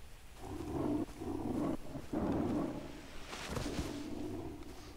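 A tiger in the Far Cry 3 jungle gives deep, rumbling roars and growls in several swelling bursts, moderately loud and somewhat distant, with no talking over it.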